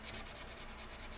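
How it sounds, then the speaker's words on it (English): Wet sanding with water: a quick run of rhythmic scrubbing strokes, close and steady, roughly ten rasping passes in just over a second with no voices. "when you have a medium that's made for wet sanding,"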